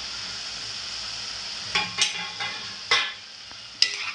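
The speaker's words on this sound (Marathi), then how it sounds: "परतून घेऊया," Eggplant stir-fried in a hot pan gives a steady soft sizzle, broken by several sharp scraping stirs of a spatula in the second half, close and clear with no talking.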